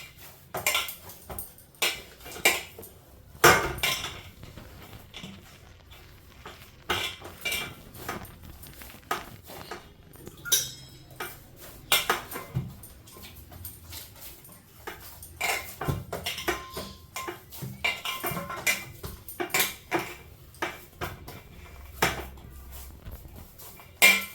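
Chapati dough kneaded by hand in a steel plate, with irregular metallic clanks, taps and scrapes of the plate throughout, close and uneven, with no talk.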